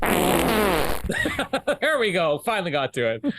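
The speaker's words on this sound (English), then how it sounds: "I thought you're going to have the fart effect there." A wet, buzzy fart sound effect plays loudly for about a second on a podcast, then speech follows.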